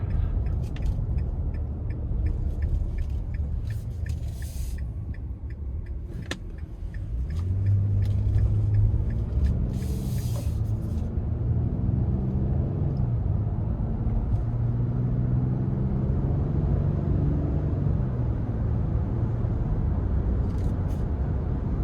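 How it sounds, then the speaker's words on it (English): A steady low rumble of tyres and engine fills the cabin of a 2025 Nissan Frontier PRO-4X pickup on a rough road, with a dull droning hum and occasional faint knocks. "I'm impressed by the road noise so far. Again, on this rougher stretch of road here."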